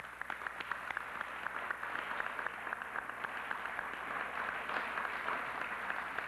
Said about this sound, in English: I'd like to give them applause.